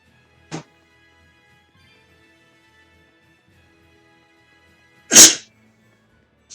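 Two sneezes from a person: a short one near the start, then a louder, sharper one several seconds later, with near silence between them.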